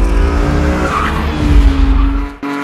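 A homemade sports car, hand-built in Tanzania, skids with loud sustained tire squeal over a revving engine close by, cutting off abruptly near the end.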